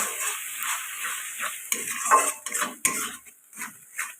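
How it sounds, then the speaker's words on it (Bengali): Ground spice paste of poppy seed, prawn and almond frying in a pan, with a bright hissing sizzle and irregular clinks and scrapes of a metal spoon stirring against the pan. "মশলাটা আমি দিয়ে সুন্দর করে ভেজে নেব"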